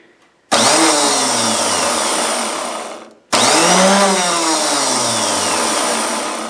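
The electric starter motor from an Ariens snow blower, clamped in a vise on a table, runs in two loud whirring bursts of about three seconds each. Each spins up with a rising whine and then winds down, separated by a brief silence.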